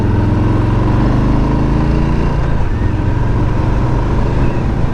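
A 2020 Harley-Davidson Street Bob rides loudly up to a tight hairpin, its steady engine rumble and wind roar dropping in pitch as the rider brakes hard, with no one speaking.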